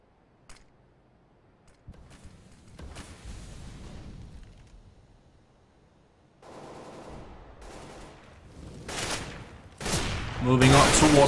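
Gunfire during a video game shootout, scattered shots and bursts that grow denser and louder toward the end, heard alongside a commentator talking.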